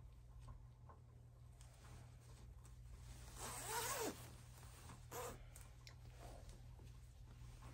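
A zipper on a cosplay outfit is pulled up in one quick, rising zip near the middle, close by and fairly quiet over a steady low hum.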